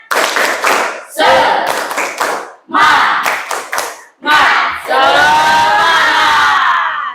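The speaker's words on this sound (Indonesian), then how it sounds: "Oke, tepuk semangat sekali lagi. Tepuk semangat." A school class performs a rhythmic spirit clap, bursts of group clapping in a patterned beat mixed with shouted chants from the students, ending in a sustained loud cheer, close and energetic.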